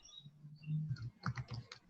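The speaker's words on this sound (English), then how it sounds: "Is that you typing" Someone types on a computer keyboard during an online round-table call, a quiet, uneven patter of key clicks with no talking.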